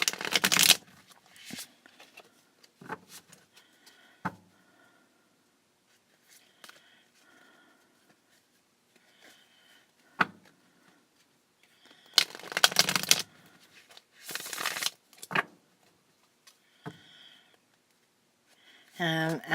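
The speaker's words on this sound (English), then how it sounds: "I'm going to go ahead and shuffle the cards" Kipper fortune-telling deck being shuffled by hand, several bursts of riffling and card slaps separated by quiet pauses, close and fairly soft.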